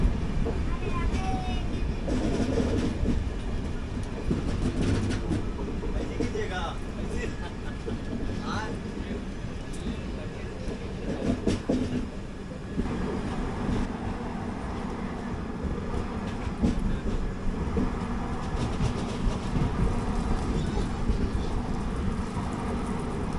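The Manmad–Nanded passenger train, pulled by a locomotive, rumbles past steadily and close by with continuous wheel and carriage noise, and a voice talks faintly over it.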